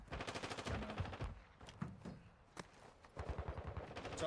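Rapid automatic gunfire from a competitive shooter video game, with bursts of fast repeated shots, short pauses and scattered single cracks, loud and close over a few seconds with no speech.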